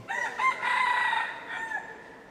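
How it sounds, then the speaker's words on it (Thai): A rooster crows at a temple in Malaysia, one loud, close, drawn-out call with a rising start and a trailing fade, heard on its own without talking. "ไก่ขันผิดเวลานึกว่าไก่ขันช่วงเช้า"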